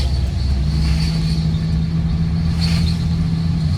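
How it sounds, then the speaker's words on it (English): Steady low rumble and drone from a van driving along with a grinding fault underneath, continuous and fairly loud with a sustained low hum and no talking. "I don't know what is making a grinding noise under my van"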